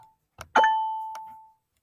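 A single bell ding from a coded computer game, a bright clear tone that rings out and fades over about a second, preceded by a soft click.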